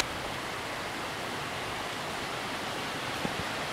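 Kurokuma Waterfall, the first falls in the Shirakami Mountains of Ajigasawa, Aomori, roaring as a dense, unbroken rush of falling water, steady and loud throughout with no pauses.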